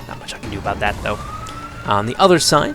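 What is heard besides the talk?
siren going off in the background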